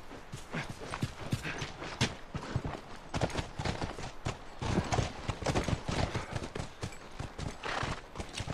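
Horse hooves clip-clop on the ground in The Last of Us on PS3, a steady, close rhythm of hoofbeats that runs for the whole stretch with no one talking.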